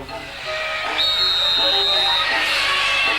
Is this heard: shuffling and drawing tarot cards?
no